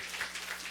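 Brief burst of congregation applause inside a church during a Sunday worship service, a steady wash of clapping hands heard alone for under a second.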